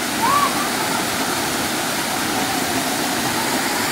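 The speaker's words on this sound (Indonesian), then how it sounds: "cukup sekian saya review air terjun rawa gede guys" Rawa Gede waterfall pours steadily and loudly in a constant broadband rush with no pauses, and a brief faint chirp sounds near the start.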